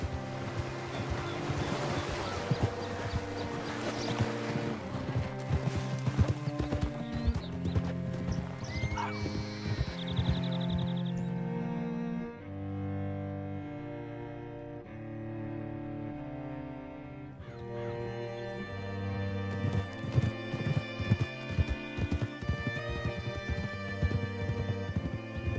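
A horse's hooves clip-clop in the video game Red Dead Redemption 2, with a whinny and steady rhythmic hoofbeats over a sustained musical score and ambient wash, the music dropping briefly midway before swelling again.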